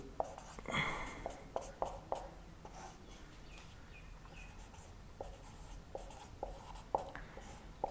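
Marker or chalk writing on a board during a lesson on presidential impeachment in India: short, close scratchy strokes and taps in irregular bursts, with quieter stretches between.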